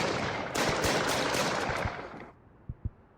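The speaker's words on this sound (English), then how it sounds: "Another shooting?" Loud, rapid gunfire in a video game crackles in a dense burst for about two seconds, then cuts off, followed by two separate sharp single shots.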